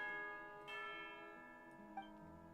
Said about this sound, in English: You hear the sound of the bell.